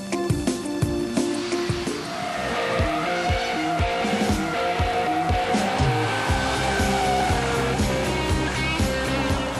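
A 1970 Corvette Stingray C3 widebody custom drifts on a track, its V8 engine roaring with repeated gear shifts while tires squeal loudly and continuously.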